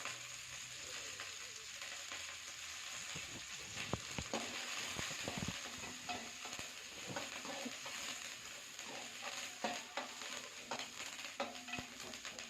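Curry leaves and pepper sautéing in a pan for kovakkai leaf chutney give a steady close sizzle and frying crackle, broken by soft stirring scrapes and clicks throughout.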